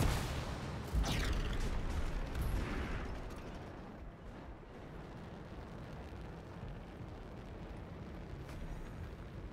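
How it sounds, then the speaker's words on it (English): A bombing blast in the video game Anthem during a Tyrant Mine run: a loud, booming explosion burst early on, followed by rumbling debris and a lingering roar that fades into steady game ambience. "I'm gonna bomb the scar right now."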